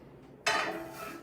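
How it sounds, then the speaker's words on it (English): A metal skillet set down on a kitchen stove gives one sharp clank, followed by a brief ringing decay after a quiet moment. "Our handy dandy skillet."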